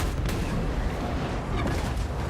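Lead belcher cannon fire from a Total War: Warhammer 3 battle, a dense rumbling barrage of booms and bursts rolling continuously at steady loudness with no clear gaps.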